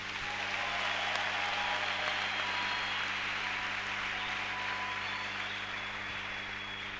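A church congregation applauds steadily during a sermon, dense sustained clapping filling the room for several seconds at a constant level, with a faint hum underneath and no talking.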